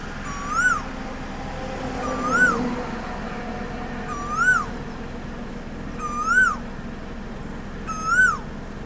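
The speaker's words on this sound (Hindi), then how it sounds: "ये प्रॉपर जो कॉल है ये एशियन कोयल मेल की कॉल है।" Male Asian koel calling from a perch, five clear rising-then-falling whistled calls spaced about two seconds apart, moderately near over a low steady background hum.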